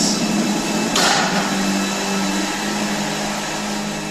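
A high-powered leaf blower runs at a haunted-house door, giving a loud, steady broadband roar that holds constant through the whole stretch with no voices.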